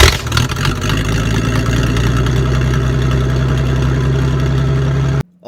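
A Ford F-Series truck's 300 cubic inch inline-6 engine runs steadily at a low, even idle, loud and close throughout, cutting off abruptly just before the end.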